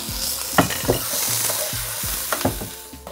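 Kashmiri pulao is stirred in a pan, with several scraping strokes of a spatula over a continuous loud sizzle from frying rice.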